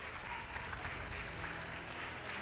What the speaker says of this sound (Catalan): un fort aplaudiment, sisplau, per Marc Oriol, sisplau.